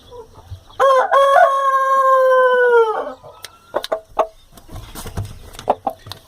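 A rooster crows once, loud and near, with a long sustained call, followed by scattered clucks and rustling from other fowl in a backyard flock.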